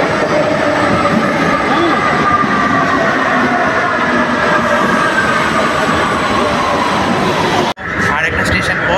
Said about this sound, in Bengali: মেট্রো আসার অপেক্ষা করতে থাকি। তো আমাদের গাড়ি এই ঢুকছে।